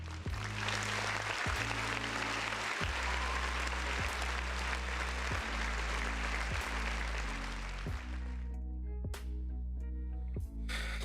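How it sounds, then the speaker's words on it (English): A round of applause with dense, steady clapping from a crowd fills the clip and thins slightly toward the end, with a low rhythmic music beat pulsing underneath. "Round of applause for the folks in the chat."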